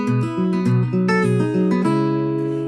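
Fingerpicked acoustic guitar plays a steady pattern of plucked notes and bass tones from a song, close and clear, with no voices.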